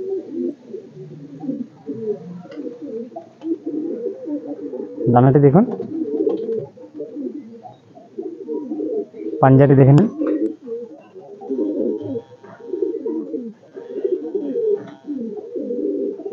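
Madrasi pigeon chicks in a loft coo in low, burbling phrases nearly throughout, while someone talks close by over them.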